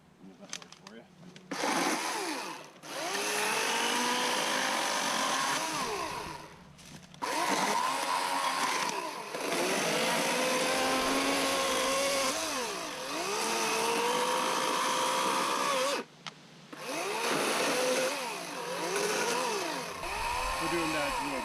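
Greenworks 80V battery chainsaw cutting into a 14-inch poplar log, a loud steady high-pitched motor whine rising and dipping as the chain bites through the wood, with short gaps where it stops between cuts.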